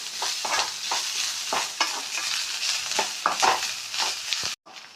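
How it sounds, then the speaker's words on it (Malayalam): Spice mixture for a chammanthi frying in a pan, steady crackling sizzle broken by repeated stirring scrapes, close and moderately loud, ending in a sudden brief cutoff. "അപ്പോൾ നമ്മൾ വെച്ച കൂട്ട് ഫ്രൈ ആയിട്ടുണ്ട്."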